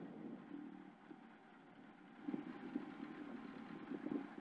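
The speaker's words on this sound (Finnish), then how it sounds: "Ei muuta kuin sitten annetaan moottorin pyöriä." A BDA-engined Escort rally car idles before the start on a Finnish rally stage, a faint low steady hum with a few light rev blips toward the end and no talk.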